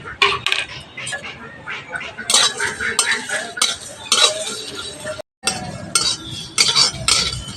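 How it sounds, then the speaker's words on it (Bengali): Whole dried chillies, fennel, coriander and cumin being dry-roasted in a wok, with repeated scraping and clinking of a spatula against metal, loud and close, in irregular bursts and one brief pause. "এখানে নিয়ে নিয়েছি গোটা শুকনো লঙ্কা, গোটা মৌরি, গোটা ধনে আর গোটা জিরে একসঙ্গে শুকনোগুলোয় ভেজে নেব।"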